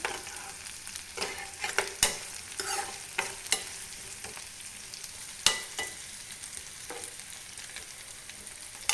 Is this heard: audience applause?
no